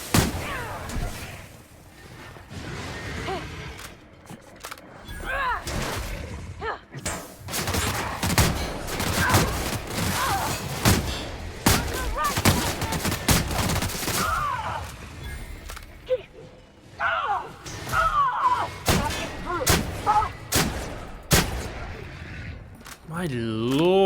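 Shotgun blasts from The Outer Worlds video game, a rapid run of loud, sharp reports with bursts of gunfire and explosive hits scattered through the scene, layered over busy game noise.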